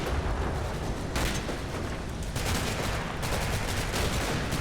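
Sustained heavy machine gun fire in the WWII wargame Combat Mission: Battle for Normandy, dense overlapping bursts and booms filling the whole stretch at steady loudness with no voices over it.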